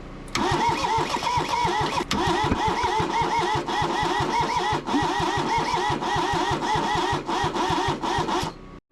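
A Kubota diesel tractor rescued from a scrap yard cranks and fires, its engine knocking in a loud, fast, rhythmic chug close by for several seconds before cutting off abruptly.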